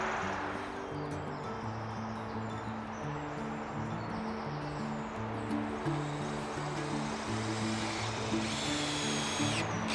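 A power drill drives screws through a plywood floor laid over the glued-down base of a small 10x12 cabin in Vermont, giving a close, continuous whining drone whose pitch steps up and down for the whole stretch.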